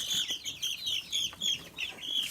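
Farm chickens cluck and chirp in short, repeated bursts, fairly close and moderately quiet, with no talking over them.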